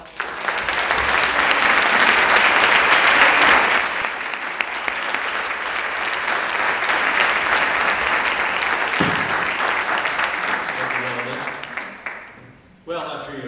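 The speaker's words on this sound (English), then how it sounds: "Let's give a round of applause" Sustained applause from a seated audience at a panel talk on food and GMOs, loud and steady for about twelve seconds before tapering off, with a voice beginning to speak at the very end.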